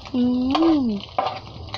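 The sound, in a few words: fish with ginger frying in lots of oil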